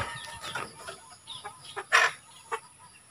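Native chickens cluck in short, irregular bursts nearby, a few louder squawk-like calls standing out over quiet outdoor background.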